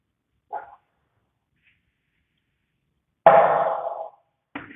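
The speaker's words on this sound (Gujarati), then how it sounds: "ધ ડોગ વોઝ બ્રેક, એટલે કે ભસવું એવું થાય" A dog gives a few short barks separated by silence, one brief yelp early and a louder, longer bark later followed by another starting, fairly close and with no talking.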